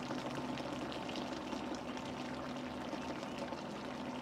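Lamb shank tagine simmers in a Le Creuset pot over lowered heat, giving a steady, close bubbling hiss with soft crackles that continues evenly without pause and with no voices.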